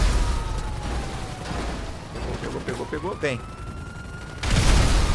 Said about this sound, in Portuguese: Explosão dupla!